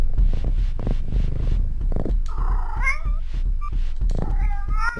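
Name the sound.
cat meowing in a video game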